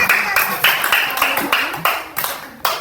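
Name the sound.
children clapping for classmates in a classroom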